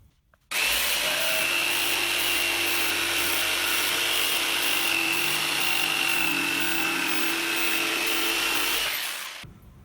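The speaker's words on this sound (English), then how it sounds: "I'm just going to cut these out with a jigsaw." A jigsaw cutting through 18mm plywood for campervan cupboard parts, one loud continuous buzzing run with a steady rasping blade that starts abruptly and stops near the end.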